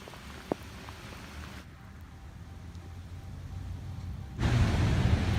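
Heavy rain pours during the 2016 Windsor flood storm, a steady hiss of downpour at moderate level that briefly thins and then returns louder and denser near the end, with a small knock early on.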